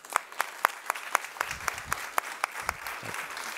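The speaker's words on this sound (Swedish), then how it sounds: "En varm applåd till Allan Larsson." An audience at a panel event on research and global problems gives warm applause, a steady run of close, rhythmic hand claps filling the room, with no voices over it.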